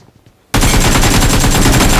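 Near silence, then a sudden burst of rapid, loud automatic gunfire in the video game BGMI that keeps going without a break.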